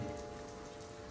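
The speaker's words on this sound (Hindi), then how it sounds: "बारिश हो रही है" Steady, dense rain falls during a family trip to Shimla, a close, even hiss of drops on a surface with no pauses and no voices.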